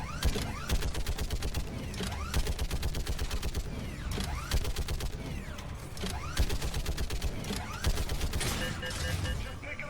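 A mounted big gun in the Mass Effect 3 video game fires rapid, sustained bursts with clattering mechanical rattle, loud and close throughout, with voices talking over the gunfire.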